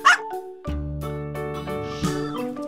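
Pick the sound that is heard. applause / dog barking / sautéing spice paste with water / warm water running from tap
dog barking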